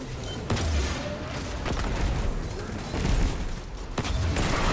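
Rocket launcher fired in a video game, a dense crackling blast with several sharp broadband bursts over a continuous loud roar of explosions and gunfire.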